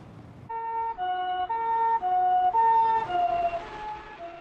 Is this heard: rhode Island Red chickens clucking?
no